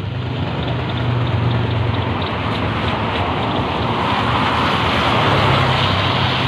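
Steady rain hisses loudly and continuously, heard from under a tree, mixed with a low rumbling engine-like drone and wind noise throughout.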